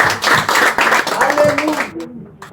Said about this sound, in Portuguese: Vamos receber o servo do Senhor com palmas para Jesus.